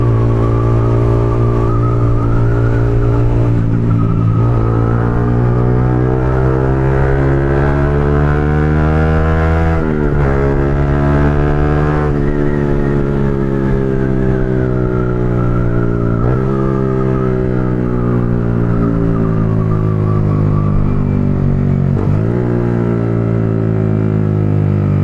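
A large vehicle engine runs loud and close without a break, its pitch swelling and dipping in slow revs over a steady throbbing hum.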